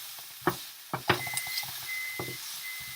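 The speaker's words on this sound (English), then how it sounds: "Oh, that's my microwave there." Faint electronic microwave oven beeps in a few drawn-out tones, heard over steady sizzling and scattered clinks and clatter of cooking.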